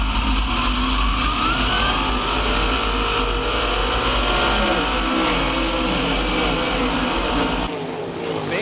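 Sprint cars accelerating together on a race restart at a dirt speedway, a loud, sustained engine roar that holds steady and then drops off near the end.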